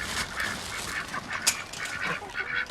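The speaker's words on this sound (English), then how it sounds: "here go the ducks" Ducks on a backyard farm kept alongside chickens, calling in a run of nasal quacks and honks that keep overlapping at close range for a few seconds, with no talking.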